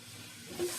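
A whole onion fries in a hot skillet, giving a soft steady sizzle and hiss that swells a little near the end of a very short moment, with no talking.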